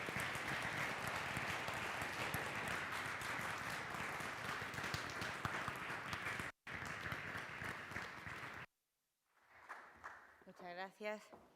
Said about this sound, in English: Let's give a loud round of applause for Ms.